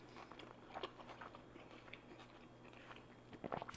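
Someone bites into and chews a spicy habanero bacon blue cheeseburger, making faint, close, soft crunching and wet chewing sounds with a few sharper bites near the end.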